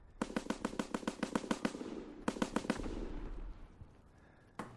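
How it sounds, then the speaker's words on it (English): Rapid bursts of gunfire in Call of Duty WW2 multiplayer Domination, two quick volleys of sharp close shots and a grenade blast tailing into rumble, then a lone later shot. "Tossing grenade."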